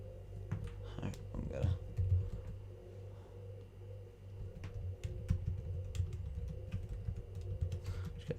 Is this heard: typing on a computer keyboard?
yes